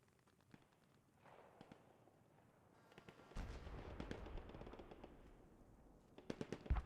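Tank machine gun fire in Post Scriptum, the World War II shooter, during a custom event where tanks suppress defenders. Distant bursts rattle across the scene, rising to a dense, loud stretch of rapid shots in the second half, with sharper cracks near the end.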